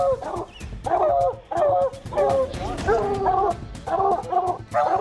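Hunting dogs on a mountain lion hunt bark and yip in rapid, excited bursts, with whimpering mixed in, close and loud throughout.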